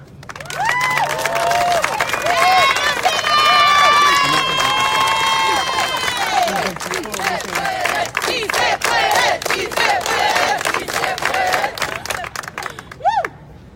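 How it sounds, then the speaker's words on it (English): An audience at a People's State of the State union event claps, cheers and whoops for a speaker, a loud sustained crowd roar with shouts that thins into scattered claps toward the end. "Everyone, please round of applause for Lucia."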